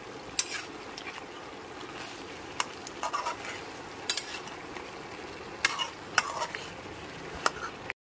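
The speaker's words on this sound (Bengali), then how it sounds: "মশলার পেস্টটা দিয়েও খুব ভালো করে গ্যাসের ফ্লেমটা মিডিয়ামে রেখে কষিয়ে নিতে হবে" Fried meat and spice paste sautéed on a medium gas flame, with a low continuous sizzle and scattered sharp spatula clinks and scrapes against the pan, close but fairly quiet.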